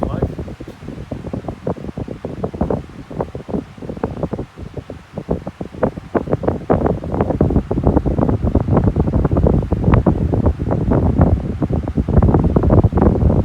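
Two 12-inch desk fans, a 1995 CED and a 1993 Astor, running side by side with a steady close whirring airflow and fluttering buffeting that grows slightly louder toward the end.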